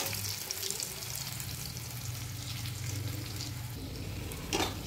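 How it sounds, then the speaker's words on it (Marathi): Kothimbir vadi, Maharashtrian coriander fritters, frying gently in oil on a low flame, giving a steady, soft sizzle that runs through the whole stretch with no talk. "त्यानंतर मंद आचेवर तळून घेणार आहे"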